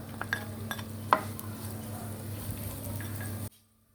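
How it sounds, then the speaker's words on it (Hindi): Dried dates and raisins fry in ghee with a soft sizzle under clinks and scrapes of a utensil against the pan, a sharper clatter near the middle, before the sound cuts off abruptly. "तो इसको हम पहले फ्राई कर देते हैं, छुआरा और किशमिश को।"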